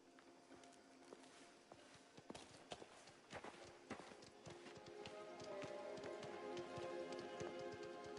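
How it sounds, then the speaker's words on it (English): A horse clip-clops in the video game Mafia: The Old Country, a faint irregular run of hoof taps growing slightly louder, with a low steady background and little else. "Is that your horse or theirs?"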